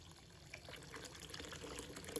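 Clean water pours steadily over Chinese kale in a bowl to rinse it, a continuous close splashing and trickling wash with small bubbling bursts.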